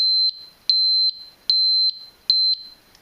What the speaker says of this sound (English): by default this guy has the flashing light and beeping alarm